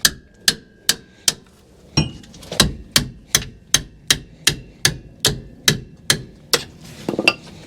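Metal hammer blows on a van's brake caliper, a steady series of about fifteen sharp ringing strikes with a brief pause early on, no talking.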